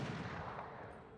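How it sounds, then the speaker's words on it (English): Gunfire from a battle royale video game match with sniper play, heard as a dense burst of shots and crackling at steady loudness through the short stretch. "they're taking shots at Lack Narubi now"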